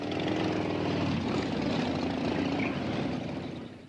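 Motorcycles of the Vietnam Vets Motorcycle Club ride past in the Melbourne Anzac Day march, a dense continuous engine drone close by that holds steady, then fades toward the end.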